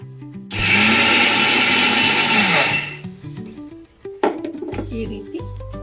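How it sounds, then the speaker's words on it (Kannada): A mixer grinder whirs loudly for a few seconds, blending a laddoo mixture of wheat flour, dry fruits and melted jaggery, then cuts off, leaving quieter kitchen clatter and brief sounds. "ಈ ರೀತಿ ಎಲ್ಲವನ್ನು ಮಿಕ್ಸಿ ಮಾಡ್ಕೊಂಡಿದ್ದೀನಿ"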